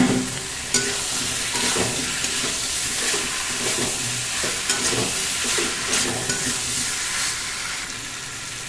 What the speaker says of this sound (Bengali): ভেজে রাখা আনাজগুলো দিয়ে দিচ্ছি